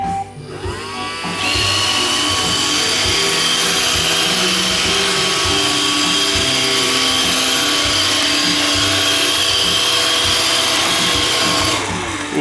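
An iRobot Roomba 531 robot vacuum starts up after a brief lead-in and runs on a straight pass, giving a steady high-pitched whine and motor hum up close, then shuts off near the end.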